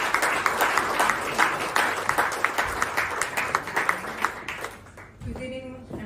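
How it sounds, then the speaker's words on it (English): Conference audience applauding as a Vodafone guest speaker is introduced, dense steady clapping close and full for several seconds, fading out as a voice begins near the end. "So please join me in applauding Francesca, who's going to join us from Vodafone today."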